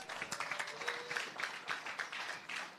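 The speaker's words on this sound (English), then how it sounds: "Let's give another round of applause." An audience applauds at a Restorative Justice Conference, heard as a faint, steady patter of many hands clapping that continues for a few seconds.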